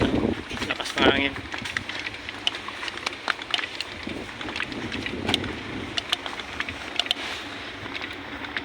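Strong wind buffets the microphone outdoors as a steady, loud broadband roar with gusty swells and brief rustling bursts, and no voices are heard.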